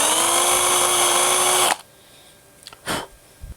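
A small power drill whines loudly and steadily while cutting a slot in a balsa wood crankbait lure, then stops abruptly and is followed by a few faint handling knocks.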